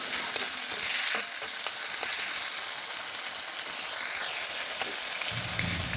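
Onions sizzle in hot oil while being stirred with ginger-garlic paste for a soybean and potato curry, giving a soft, continuous frying hiss with scattered spoon scrapes, fairly quiet and close.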